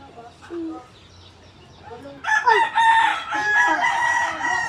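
Chickens cluck and a rooster crows, getting louder partway through, with a few voices speaking quietly over the birds.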